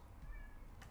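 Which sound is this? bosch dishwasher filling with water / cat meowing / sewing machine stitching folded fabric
cat meowing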